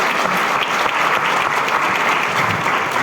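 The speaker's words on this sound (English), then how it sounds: "A round of applause for the former President, John Agyeman-Duah." A loud, steady round of audience applause fills a hall at a memorial lecture, greeting a former president with continuous close clapping and no talk.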